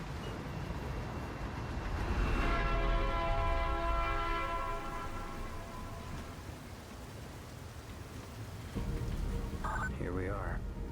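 A moving train in the video game Ninja Gaiden 4 gives a steady rushing rumble mixed with a rain-like hiss, a sustained horn tone swelling then fading, and a brief voice near the end.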